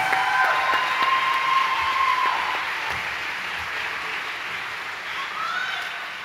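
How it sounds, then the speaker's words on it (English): A high school fall concert audience applauds, a steady wash of many hands clapping at moderate distance that gradually thins and softens toward the end. "Let's give him another round of applause."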